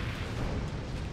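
A fire attack in Dark Souls II, a loud, dense roaring whoosh of flames that fills the moment without a break.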